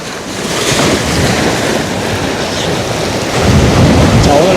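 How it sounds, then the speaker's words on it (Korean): Strong wind roars at a rocky Jeju shoreline fishing spot: loud, steady buffeting against the microphone mixed with crashing surf, swelling heavier toward the end, with no one talking. "바람이 너무 부네요"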